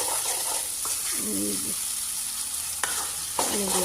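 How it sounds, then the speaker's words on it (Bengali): Spices and meat stir-fried in a pan, with steady sizzling and a few scraping stirs of a utensil against the pan, close by and moderately loud. "মশলা কষা যাচ্ছে, মাংস বসে দিই"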